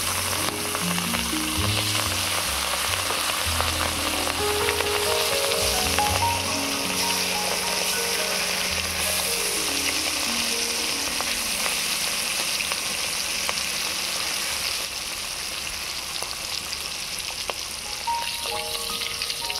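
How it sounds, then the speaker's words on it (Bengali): Pieces of hilsa fish fry in hot mustard oil in a kadai, giving a loud, steady, close crackling sizzle throughout with occasional stirring and no talking. "তেল গরম হয়ে গিয়েছে, এবারে মাছগুলো ভেজে নেব"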